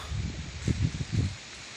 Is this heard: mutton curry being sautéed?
no